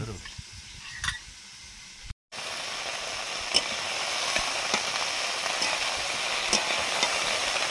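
Okra frying in a pan gives off a steady, close sizzle that grows louder after a brief gap, with occasional stirring clicks and no talking.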